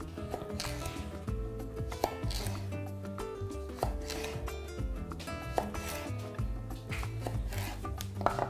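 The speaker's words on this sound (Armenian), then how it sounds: "Որից հետո կտրատում ենք մանր խորանարդիկների։" Knife chopping food into small cubes on a cutting board, a steady run of light, closely spaced taps and scrapes heard near and moderately quiet, with no talking over it.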